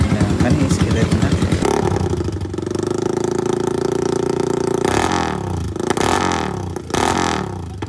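Motorcycle engine with a newly fitted muffler at a muffler shop, loud and close, throbbing rapidly at first, then settling into a steadier drone, with sharp blips of revving near the end and a voice speaking over it.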